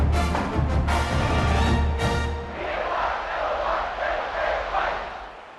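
Crowd cheering in the College Football 26 video game: a loud, sustained stadium roar that swells and eases over several seconds, with no speech on top.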